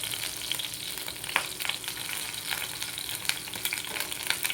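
Fritters fry in hot oil that spatters, with water on the spatula setting off a busy, crackling sizzle full of sharp pops, close and steady throughout.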